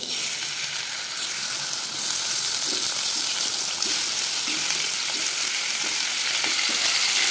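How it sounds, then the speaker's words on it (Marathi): Chopped tomatoes frying in oil in a hot kadhai, a continuous close bright sizzle with soft crackles and light wet bubbling that holds steady throughout. "थोडासा आपण तेल टाकून घेऊया आणि टोमॅटो चिरलेला आहे ना ते आपण ह्यात ठेवूया"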